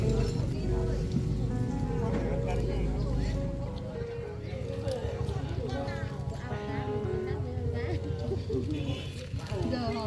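Rain patters steadily onto a flooded village, a dense, even hiss of drops on water and surfaces running underneath people talking throughout.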